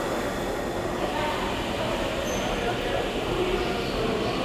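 An Uptown Express 3 train on the New York City subway at Times Square station makes a steady, loud roar of wheels and rumble that fills the platform for the whole stretch.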